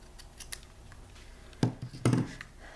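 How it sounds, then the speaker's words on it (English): Ribbon scissors trim ribbon tails at a kitchen table craft session: a couple of faint snips, then two sharp, close cuts in quick succession against a quiet room. "I need ribbon scissors to trim the tails."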